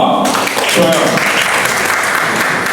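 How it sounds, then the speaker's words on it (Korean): A crowd applauds at a middle-school Sunday worship gathering in a Korean church, a steady, dense wash of clapping that fills the whole stretch while a voice speaks over it. "박수 할게요."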